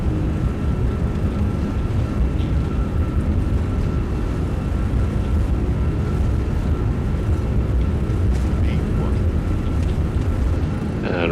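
Airbus A340-600 takeoff roll in the X-Plane 11 flight simulator: a steady, loud roar of jet engines with rumbling runway noise, continuous for the whole stretch.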